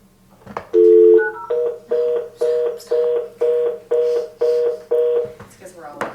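A telephone is dialed during a council meeting: a dial tone, then a quick run of about eight evenly spaced touch-tone beeps, loud and close, with voices faintly around it.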